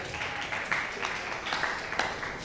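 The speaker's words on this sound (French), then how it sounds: "Est-ce qu'on peut l'applaudir s'il vous plaît?" An audience at a televised singing competition claps steadily throughout, a dense, moderately loud applause with sharp individual claps standing out.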